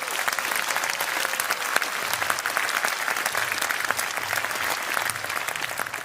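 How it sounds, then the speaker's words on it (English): Strong, continuous audience applause rolls through a Reform party rally in Leeds, many hands clapping steadily and close. "Can I get a round of applause for that"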